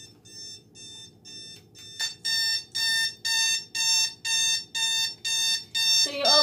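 A digital alarm clock's alarm beeps, quietly at first, then in loud repeated electronic pulses of roughly four beeps per second, grouped in regular bursts, ending with a brief rustle.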